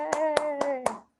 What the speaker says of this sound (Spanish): Vamos a aplaudirle.